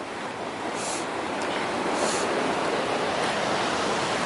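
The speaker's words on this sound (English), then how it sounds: "This is the South Fork of the San Joaquin River." Steady broadband rush of the South Fork of the San Joaquin River flowing along a mountain trail near a bridge, a constant close, loud roar with no breaks and no voices.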